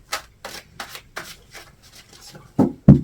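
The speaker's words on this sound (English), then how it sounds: "Shuffle, shuffle, shuffle." Tarot cards are riffled and shuffled in several short, soft bursts, each a quick papery rustle, followed by two louder slapping card sounds at the end, close and alone.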